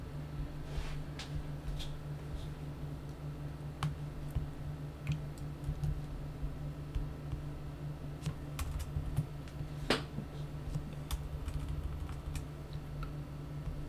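A computer keyboard is typed on in short irregular bursts of quiet clicks over a low steady hum, with no one talking.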